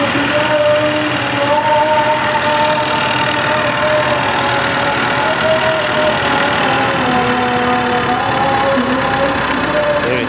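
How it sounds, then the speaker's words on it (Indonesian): A Mitsubishi Pajero engine with a check-engine fault, held at raised RPM: a steady, continuous mid-pitched drone with a faint tonal whine that runs for the whole stretch without pause. "motor digas"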